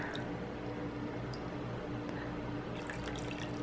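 Freshly brewed coffee with oils and sediment is poured from a vessel. The liquid gives a faint, soft trickling and dripping sound, quiet and close, with no voices.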